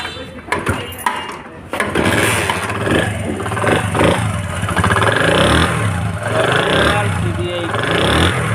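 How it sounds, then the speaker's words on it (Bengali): A Japanese car engine in original, fresh condition, running steadily with a loud, close rumble after a few sharp knocks at the start, with voices talking over it. "গাড়িটার এক ফ্লক সাউন্ড শোনেন"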